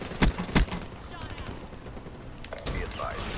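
Call of Duty Black Ops III gameplay with two sharp Cuda gunshots close together near the start, a quieter stretch with mechanical clicks, then more game noise toward the end.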